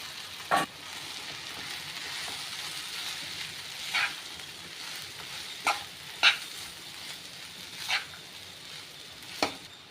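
Ragi vermicelli and vegetables are stirred in a hot pan: a low, constant sizzle runs throughout while a spoon scrapes the pan in separate knocks every second or two, without talk.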